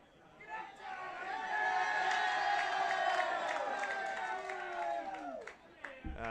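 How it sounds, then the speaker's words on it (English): At a seniors football grand final between Tamworth Swans and New England Nomads, a crowd cheers from close by, with a sustained roar and voices shouting over the ground, then fading near the end. "you hear there's a vocal crowd down here on our left-hand side"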